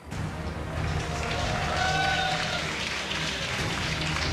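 Tournament crowd at a StarCraft 2 WCS Europe quarterfinal, a steady wash of cheering and applause filling the arena at moderate distance, continuous and rising slightly midway.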